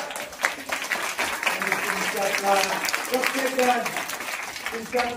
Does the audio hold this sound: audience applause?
yes